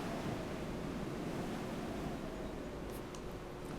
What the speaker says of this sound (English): Yeah, it's very windy out there.